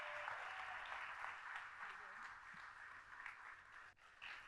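Applause from a large school back-to-school audience, a soft, distant and even clapping wash that continues steadily throughout.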